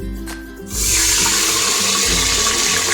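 A quiet start, then a sudden steady rush of water pouring into a pot for pea pulao, loud and close, continuing without a break.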